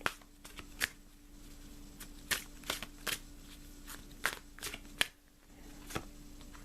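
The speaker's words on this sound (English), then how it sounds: "And shuffling one more time." Oracle cards being shuffled by hand during a reading, with a run of crisp riffling bursts and soft slaps at an irregular rhythm, close and fairly quiet, no talking.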